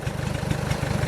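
A diesel car engine idles at tick over, with a steady, rhythmic low chugging close by and no voices.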